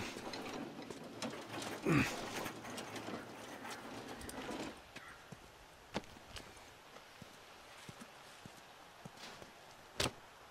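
A heavy gate being opened in The Last of Us, a short mechanical ratcheting and grinding rattle near the start, followed by quieter scattered clicks and footsteps in a subdued setting.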